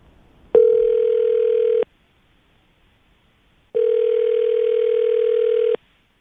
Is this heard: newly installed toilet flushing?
no